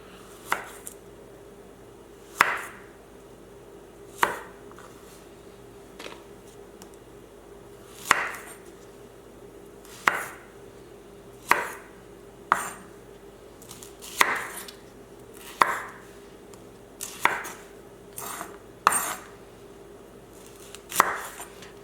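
A knife quarters Brussels sprouts on a cutting board: about a dozen crisp, distinct chops land one at a time, a second or two apart, with quiet gaps between them.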